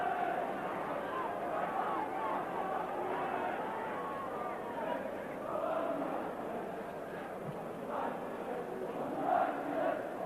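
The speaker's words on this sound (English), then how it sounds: "being roared on by the crowd" A football stadium crowd at a Liverpool versus Tottenham Hotspur match roars and murmurs steadily in the background while a commentator talks over it.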